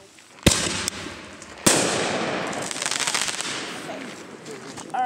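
New Year fireworks are lit and launched outdoors: two loud, sharp bangs ring out close by, followed by a long stretch of dense crackling and popping that slowly fades, with another burst at the end.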